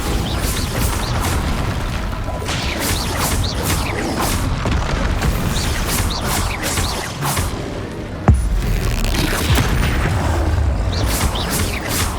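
Bombarda explosive spells go off in the Hogwarts Legacy video game, a dense run of booming bursts and whooshes over steady battle noise, with a sharp crack partway through.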